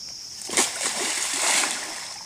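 A container thrown out on a rope lands in water with a single short splash and a brief slosh, near and fairly soft against faint outdoor background noise.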